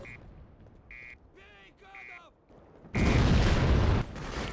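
Molotov cocktail explosions in the Freedom Fighters video game: game beeps and voice-like tones, then a sudden loud, roaring burst of fire that lasts about a second before easing off slightly.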